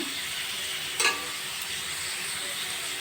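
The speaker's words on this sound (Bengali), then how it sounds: "চাল কুমড়োগুলো ভালো করে ভেজে নেব" Ash gourd pieces sizzle steadily in a hot pan as they fry, with one brief scrape of stirring partway through; a soft, continuous hiss with no talking.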